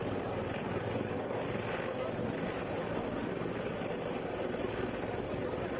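Indian Air Force rescue helicopter hovering over a flooded, fast-flowing river near a dam in Jammu, giving a loud, constant rotor and engine roar mixed with wind buffeting for the whole stretch.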